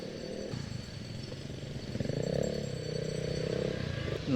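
Passing motorcycle engine on a road ride, a steady, continuous rumbling drone that swells slightly midway, heard from a moving bike with wind and road noise.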